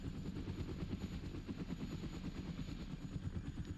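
A helicopter in the video game Arma: Resistance thrums steadily with a fast, rhythmic rotor chop, heard as a constant moderate drone for the whole stretch with no talking.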